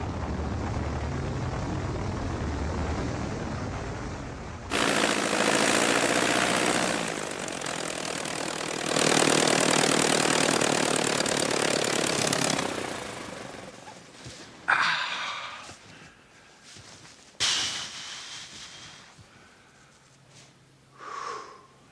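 Small propeller airplane engine in flight, a steady loud drone that surges in broad bursts and then drops to quieter passes with brief swells, heard alone without talk.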